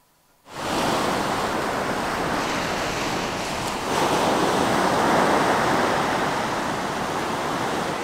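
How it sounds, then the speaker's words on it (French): Ocean surf rolling onto a beach east of Malaga near sunset, a steady broad wash of breaking waves with wind rumble, loud and continuous after a brief quiet start, no voices. "Alors nous voilà là sur une plage à l'est de Malaga, après El Torcal."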